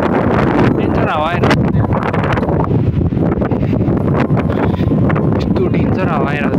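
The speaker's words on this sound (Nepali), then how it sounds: "यस्तो डेन्जर हावा आइरहेको छ" Strong, gusting wind batters the microphone with a loud, continuous roar, while voices talk underneath and occasionally rise through it.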